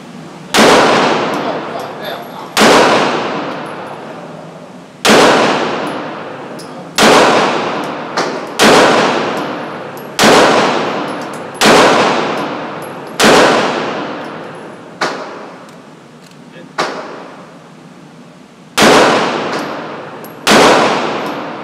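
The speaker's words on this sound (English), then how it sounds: "we're aiming at that X, and what we're gonna do is make sure our fundamentals are in place and just really take our time while we're shooting this" Gunshots ring out during target shooting practice, about a dozen loud, sharp reports spaced a second or two apart, each with a ringing decay, no speech between them.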